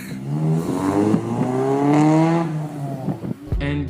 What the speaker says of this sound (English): drive all my mates around and hit VTEC